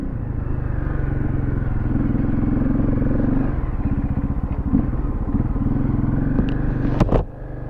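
A motorcycle with full knobby tires and low gearing chugs and revs nearby while riding in sand, with a rough, pulsing rumble and some clatter, easing off briefly near the end.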